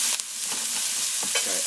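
Sliced mushrooms and pressed garlic sizzling in a very hot pan, a steady bright frying hiss broken by a few quick stirring scrapes.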